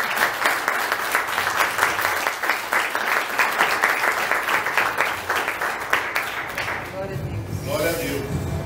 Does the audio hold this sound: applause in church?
yes